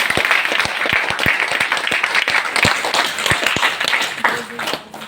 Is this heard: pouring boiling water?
no